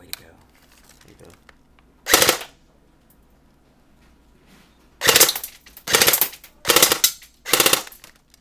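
Tokyo Marui AK47 Beta Spetsnaz airsoft gun fired outdoors: one sharp crack, a pause, then four more snappy shots in quick succession, close and loud against a quiet background.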